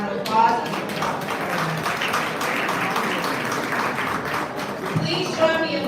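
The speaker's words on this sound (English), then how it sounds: "Please give them a round of applause" An audience at an awards gala claps in a sustained, dense burst of applause that holds steady for several seconds, with a voice faintly audible through it.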